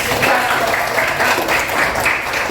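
Students in a classroom clap for a classmate, a close, loud, slightly uneven burst of many hands over a few seconds.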